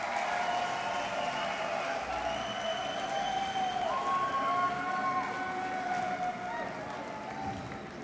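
A big festival crowd at Wacken Open Air claps and cheers steadily at a distance, a dense wash of applause with a few whistles and a voice over the top.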